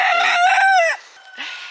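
A chicken gives a loud, drawn-out squawking call up close, followed after a short pause by a softer clucking sound.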